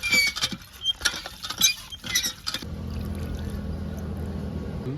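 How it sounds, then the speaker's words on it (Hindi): Cauliflower florets are rinsed by hand in a wide tray of clean water, making a few seconds of irregular splashes and sloshing that give way to a steady low background hum. "एक बार साफ पानी से और धो लेते हैं"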